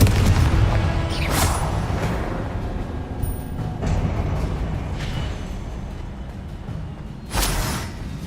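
Fiery Confringo spell blasts in the Hogwarts Legacy video game, several deep booming explosions with a rumbling roar between them, loud and repeated every few seconds.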